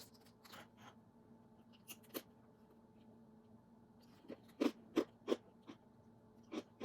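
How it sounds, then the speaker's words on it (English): Crunchy seeded grain snack chewed close to the mic, with loud sharp crunches starting soft and then a rapid cluster of four or five bites, over a quiet indoor background. "The crunching is so loud."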